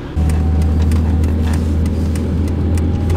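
A G Power tuned car accelerating hard on a country road, its engine a loud, steady low drone close by from start to finish.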